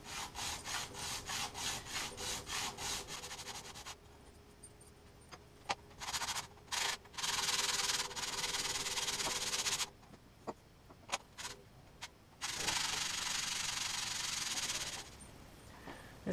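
Steel hand plane blade backs are rubbed flat on 120 grit abrasive: rhythmic back-and-forth scraping strokes at first, then longer continuous gritty grinding bursts, close and fairly loud, with no talk.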